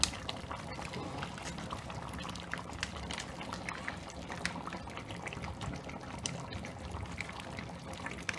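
Coconut milk is poured into a pan of beef masala, making a faint, steady trickling and gurgle of liquid that lasts throughout.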